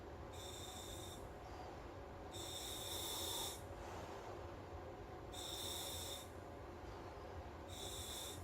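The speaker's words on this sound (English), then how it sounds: "Got a little bit more resistance, of course, breathing through your nose." Slow nasal breathing through a SMACO full-face mask, four strained hissing breaths with a whistling edge, close up and evenly spaced over a steady background.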